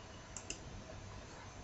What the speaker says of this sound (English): you can see a hold button there. Click that,